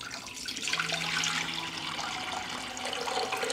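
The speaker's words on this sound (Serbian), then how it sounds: "U lonac ću sipati litar tople vode." Warm water, about a litre, pours steadily into a pressure cooker holding glass jars, a continuous splashing rush that carries on without a break for the whole stretch.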